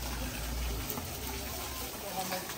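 Water gushes steadily from a pipe near a salt lake like a small waterfall, making a continuous broadband splashing rush heard close and moderately loud.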